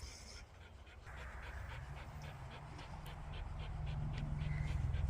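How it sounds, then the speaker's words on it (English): Exhausted dogs panting at sunset, a rapid rhythmic breathy huffing that grows louder and closer over the last seconds, steady against a low background rumble. "the dogs are just exhausted"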